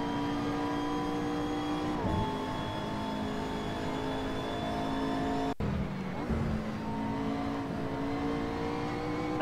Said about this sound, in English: I think this car actually sounds pretty decent as well